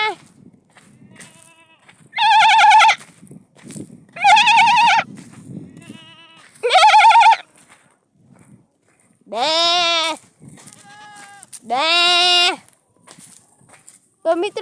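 Goats bleat outdoors in five loud, separate calls spaced a couple of seconds apart. Soft rustling and footsteps run between the calls.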